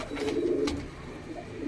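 Shakdum pigeons coo softly at close range, a short low warbling coo followed by a quieter one, with light rustling around them.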